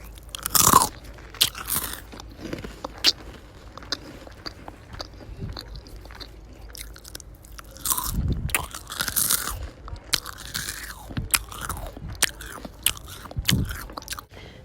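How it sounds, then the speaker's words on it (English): Crunchy chewing and biting on some crisp food, a series of close, loud bites and crunches with quieter mastication between them, no talking. "Now we're going to take the time to listen to some chewing, some elevator music,"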